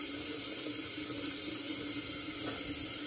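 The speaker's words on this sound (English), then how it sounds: "But I'm gonna go ahead and rinse my face off right now." Water running into a bathroom sink while someone rinses their face, a steady close splashing hiss throughout with no talking.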